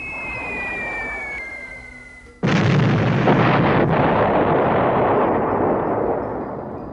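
Bombs explode in the B-17 Flying Fortress Leader video game, where a falling whistle gives way to a sudden loud blast and a long rumbling roar that slowly fades.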